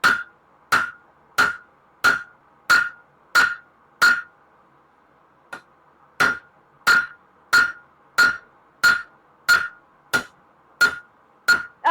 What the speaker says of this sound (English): Woohoo, drop forging.